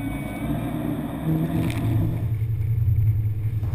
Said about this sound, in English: the waves are really hitting the side of the boat